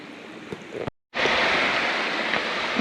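Water rushes steadily over small rapids in a rocky gorge, a broad close hiss that cuts out for a moment and then resumes louder.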